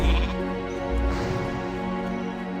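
A mage's sheep (polymorph) spell in World of Warcraft Classic Hardcore produces a continuous, wavering sheep bleat that lasts about three seconds, set over steady game background sound.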